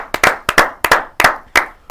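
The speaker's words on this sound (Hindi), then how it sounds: "एंड यार मोदी साहब के लिए तालियां" A few people clapping in a small indoor space, sharp close hand claps in loose rhythmic pairs, about ten distinct slaps with brief gaps between, no talking over them.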